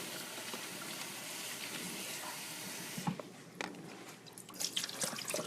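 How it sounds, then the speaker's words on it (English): Water from thawed shrimp draining through a strainer into a kitchen sink, a faint steady trickle that gives way to scattered drips and small splashes. "I'm going to strain out the water from my shrimp"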